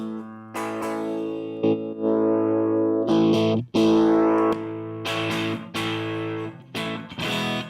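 Electric guitar played through a NUX Cali Crunch amp model, heavily distorted, with loud sustained chords and short breaks between strummed phrases, alone without talk.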